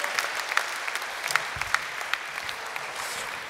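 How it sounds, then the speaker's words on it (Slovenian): Audience at a live stage event applauding, steady scattered clapping from a crowd with sharp individual claps standing out, moderately loud throughout. "En aplavz za Danajo, premiera takole na odru."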